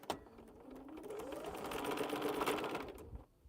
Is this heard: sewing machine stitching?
yes